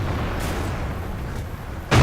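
A tank cannon in World of Tanks fires a high-explosive shell with a sharp, loud boom at the very end, after a stretch of low rumbling engine and battle ambience.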